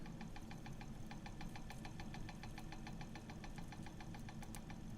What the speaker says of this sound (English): the fan just started spinning